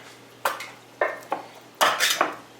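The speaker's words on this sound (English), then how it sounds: "Have this heavy duty can opener though, it's so cool, it clips in and out" Heavy duty can opener clipping onto and working a can of beans, a handful of sharp metallic clanks and scrapes in uneven bursts, close and clear with no talking, including a louder cluster near the end.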